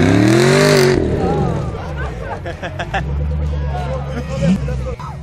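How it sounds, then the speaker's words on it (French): A new Ford Mustang EcoBoost passing at an American car meet, its engine note rising and falling close by with the rumble of other cars beneath it and a crowd murmuring throughout. "Et derrière encore une Mustang, la nouvelle. Alors celle-ci c'est l'EcoBoost."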